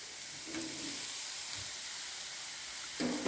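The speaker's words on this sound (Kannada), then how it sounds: "ಅದನ್ನು 1-2 ಸೆಕೆಂಡ್ ಚೆನ್ನಾಗಿ ಫ್ರೈ ಮಾಡ್ಕೊತೀನಿ." Paneer frying in a hot pan for ragi soup, a steady close sizzle and hiss with a couple of soft stirring knocks.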